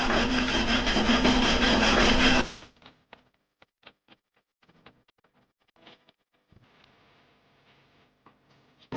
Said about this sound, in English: After the first pass, I like to give it a good wire brush.